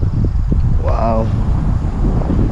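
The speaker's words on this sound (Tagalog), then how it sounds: "Gahadyong king hangin na. No, dunggan ninyo." Strong wind on a hillside in Dahilayan, Manolo Fortich, Bukidnon buffets the microphone in a continuous loud roar, with a brief exclaiming voice rising above it midway.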